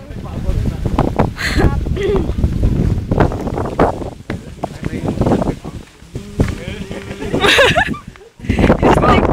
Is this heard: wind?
yes